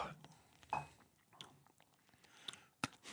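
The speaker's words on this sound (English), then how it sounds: "Hoping not chewing ice on camera" Ice is chewed close to a microphone, scattered crunchy bites at irregular intervals, soft and intimate, with murmured talk in the background.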